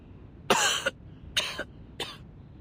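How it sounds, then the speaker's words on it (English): Three harsh, wet coughs and splutters come in close succession from a single voice, each burst short and near, separated by brief quiet. "now I cough and splutter just like it does"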